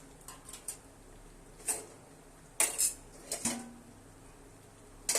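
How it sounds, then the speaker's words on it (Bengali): A lid placed on a pot of mustard-poppy fish curry with puti and parshe fish gives several short metallic clinks and clatters, close and fairly sharp, with quiet gaps between them. "এবার আমি একটু ঢেকে দেবো"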